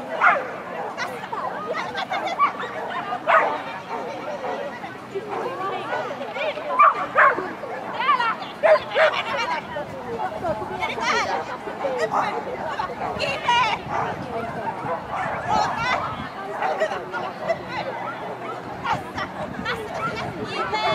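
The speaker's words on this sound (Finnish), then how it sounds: "Siinä ihan vähän kuunnelletaan koiraa jo oikein sopivasti Bonoa." A dog barks and yips intermittently outdoors, mid-distance, mixed with ongoing chatter from several people talking nearby.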